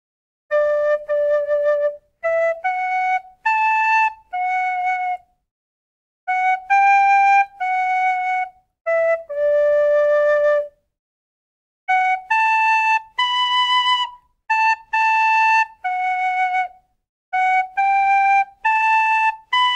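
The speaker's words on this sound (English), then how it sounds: "I will do the tutorial on a D whistle" A D tin whistle plays a bright, lilting tune from The Rings of Power, solo, clear and close, in phrased bursts separated by brief pauses.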